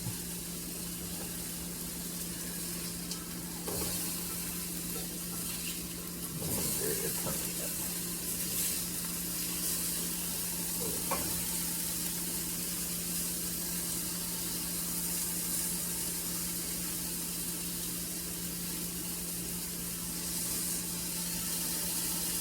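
Venison burgers frying in an iron skillet give a constant, even hiss of sizzling fat with a steady hum beneath, broken by a few faint handling sounds.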